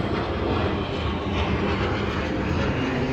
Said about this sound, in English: that airplane again